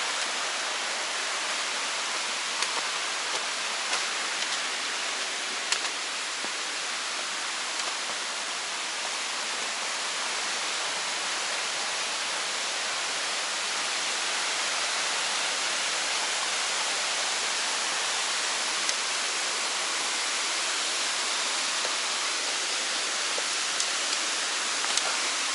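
Rushing water at Kings Creek Falls on the Chattooga River pours steadily, a constant broadband hiss close by with no breaks or other sounds.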